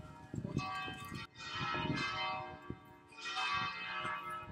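Church bells in Italy ring out in overlapping, resonant peals with a steady rhythm, their metallic tones swelling and fading, with no talking.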